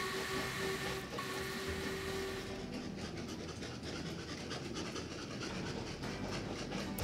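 Trains running along laid track in the video game Train Valley, a steady rolling rumble with soft rhythmic clicking and rattling throughout, no voices.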